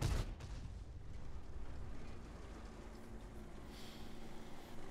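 A tank cannon in the video game World of Tanks fires a single sharp, booming shot at the very start, and a low rumbling tail trails away under quiet background noise.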